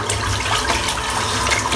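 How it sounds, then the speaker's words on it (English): A shaving brush is rinsed under a running tap, giving a dense, continuous splashing rush of water close to the microphone that lasts under two seconds. "Just rinse the brush out."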